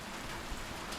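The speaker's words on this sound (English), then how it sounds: "We need the rain, but that doesn't mean I want to be out there standing in it." Heavy rain pours down outside, a dense continuous hiss of drops striking surfaces, steady and fairly close with no voices.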